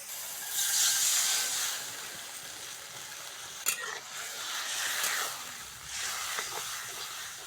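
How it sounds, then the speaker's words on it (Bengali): Tamarind tipped into a hot frying pan of village-style sour curry with turmeric and salt, giving a steady broadband hiss and sizzle that swells and fades a few times, with a sharp clink partway through. "এইবার তেঁতুলটা দিয়ে দেবো"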